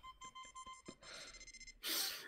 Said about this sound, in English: Sorry about the beeps.